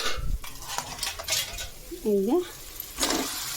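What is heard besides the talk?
goat meat poured into sizzling fried spice paste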